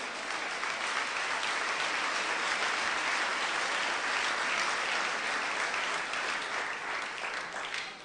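A church congregation claps and cheers to acclaim the Lord, steady and loud across the whole stretch, a dense wash of hands with no pause.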